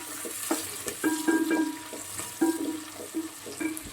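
Crab curry being stirred in a hot pan, with a run of close, irregular spoon scrapes and clacks over a low, steady sizzle.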